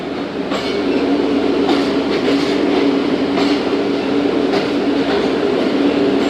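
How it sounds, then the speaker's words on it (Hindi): The 08 Down Tezgam passenger train rolls through Samma Satta junction without stopping, a loud steady rumble of wheels on track heard from on board, with faint rhythmic clacks. "नौ बजकर 48 पर सम्मा सट्टा जंक्शन पास हो रही है दोस्तों ट्रेन।"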